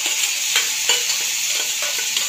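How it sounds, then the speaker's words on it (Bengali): Potatoes sizzle and crackle steadily as they fry in a pan for a vegetarian aloo dum, with faint stirring clicks scattered through the dense hiss. "দেখতে পাচ্ছেন আলুটা ভেজে নিচ্ছি"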